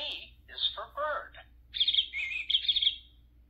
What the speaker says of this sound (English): B is for bird.